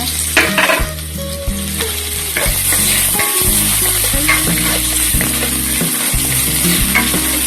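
Sliced ginger sizzles steadily in a hot pan at the start of a home-style coconut vegetable stew with shrimp, a continuous close crackle with melodic background music running underneath and no talking.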